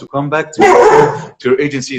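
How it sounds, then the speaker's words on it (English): A dog gives a sharp, loud bark in the middle, a single drawn-out yelp close by, between stretches of a person talking. "Sorry, that was the dog."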